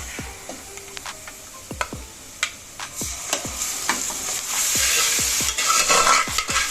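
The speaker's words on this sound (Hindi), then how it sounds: "अभी मैं इसमें चिकन ऐड कर रही हूँ।" Chicken pieces dropped into browned onions in a pan for a green chicken gravy, frying with a steady sizzle that rises and thickens, punctuated by repeated sharp clinks and scrapes of a stirring spoon against the pan.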